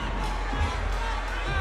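A standing-room-only fight crowd fills the arena at a Rocktagon 28 MMA event: a dense, steady murmur of many voices and chatter, close and continuous throughout the brief moment.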